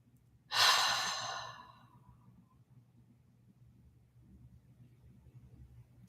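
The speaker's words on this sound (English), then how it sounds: "let's breathe and settle in" A single deep breath, loud and close, swells quickly and fades over about a second, then only a low steady hum remains in a quiet room during a live guided settling-in session.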